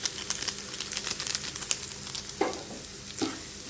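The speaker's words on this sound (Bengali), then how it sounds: "এখন খুব ভালোভাবে তেলের মধ্যে আলুগুলো মিশিয়ে নিয়ে ভেজে নিব অল্প আঁচে বেশ কিছুক্ষণ" Potatoes fry in hot oil with Maggi masala over low heat, giving a steady close sizzle with faint stirring scrapes and a couple of brief louder crackles near the end.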